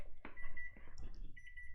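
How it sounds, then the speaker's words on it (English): Kitchen cooking timer going off, a thin electronic beeping tone that repeats in short bursts over low room noise, fairly quiet and alone. "let me turn off the timer"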